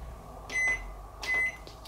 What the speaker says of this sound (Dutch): Oh, dit is een alleen een magnetron dit.